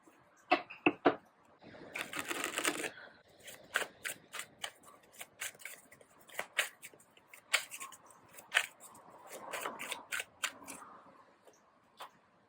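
A tarot deck being shuffled by hand at close range: quiet, irregular riffles and soft card snaps, with a longer burst of fluttering cards early on and scattered clicks and rustles after it.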